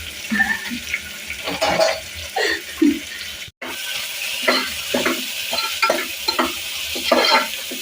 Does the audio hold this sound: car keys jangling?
no